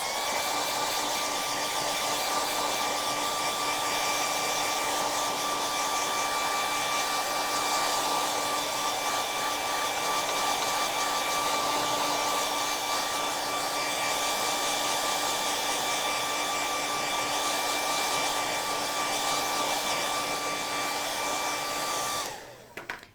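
Hair dryer blowing on wet paint over a craft stencil, a loud steady whirring drone with a constant motor whine, running without a break until it is switched off at the very end.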